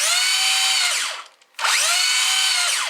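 Axial Bomber RC crawler motor whining loudly in second gear, a sustained high-pitched electric scream that briefly drops out midway and then spins back up to full pitch, with no voices.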